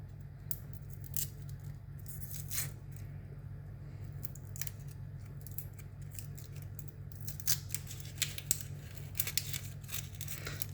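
Peeling the last thin layer from a food item by hand, a string of soft, brief crackling and tearing snaps, close and quiet, over a steady low hum.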